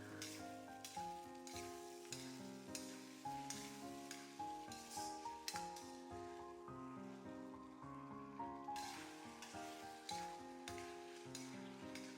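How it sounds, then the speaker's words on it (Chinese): Winter melon stir-fries in thickened tomato sauce with a steady wet sizzle and repeated scraping stirs of the spatula, close and continuous with no talking. "快速翻炒至汤汁紧紧裹在冬瓜上"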